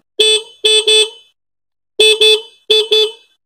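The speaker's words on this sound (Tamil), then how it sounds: "இந்த ஹாரன் வந்து நம்ம ப்ரெஸ் பண்ணி பார்க்குறோம், ஹாரன் அடிக்குதா அப்படின்னு சொல்லிட்டு" A loud, high, buzzy scooter horn honks repeatedly in short bursts, mostly in quick pairs, with brief silences between groups.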